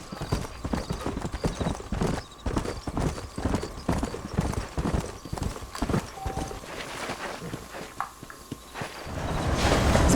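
Horse hooves clip-clop in Red Dead Redemption, a steady close rhythm of hoofbeats at a slow walk that continues the whole time and grows louder toward the end.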